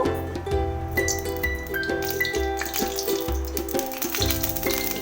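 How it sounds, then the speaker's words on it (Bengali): Mustard oil hitting a hot wok while cooking a fish curry, giving a steady sizzle with light metallic clinks, close and continuous throughout without talking. "কড়াইটা আমার গরম হয়ে গেছে কড়াই আমি এবার সর্ষের তেল দিয়ে দেব"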